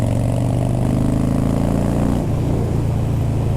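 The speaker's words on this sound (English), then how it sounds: "Super awesome exhaust note." Harley-Davidson 88 Twin Cam Softail rumbling through Freedom Performance exhaust pipes, a steady, loud, deep idle and throttle blip that shifts pitch midway, close by with no voices.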